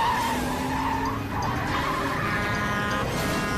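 During a highway police chase, a fleeing car skids hard with a loud, sustained tire squeal and engine noise, the screech wavering in pitch as the car slides past parked vehicles.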